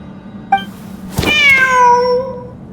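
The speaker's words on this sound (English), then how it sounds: "heard the sound of a cat while escaping the ruin" A cat in the Genshin Impact video game lets out one short chirp followed by a long, clear, drawn-out meow, loud and close with a low steady hum beneath.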